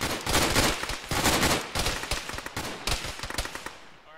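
Dense, loud gunfire from a military video game pours in from the northwest, with rapid automatic bursts and overlapping shots that crack continuously and then thin out near the end.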